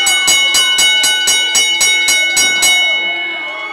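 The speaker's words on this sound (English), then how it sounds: "Ring the bell." A wrestling ring bell is struck to end a match: about nine quick, evenly spaced clangs ring out loud and bright, then a metallic tail fades away.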